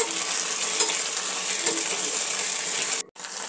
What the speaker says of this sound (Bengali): টমেটো সস আর সয়া সসটা এবারে একটু ভালো করে পেঁয়াজের সঙ্গে নেড়ে চেড়ে নেব